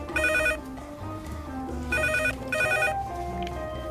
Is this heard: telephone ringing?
yes